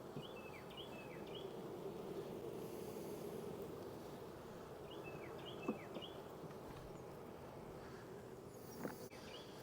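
A soft, constant buzzing hum of many honey bees at a hive fills the air, with a few faint bird chirps in the background.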